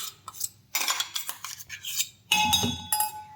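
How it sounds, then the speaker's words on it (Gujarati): A metal spoon scrapes and clinks against a pot, gathering fenugreek, onion and curry leaves for homemade hair oil, in a few close, bright bursts of scraping and clatter with no talk. "ચમચીની મદદથી બધું જ આપણે લઈ લઈએ."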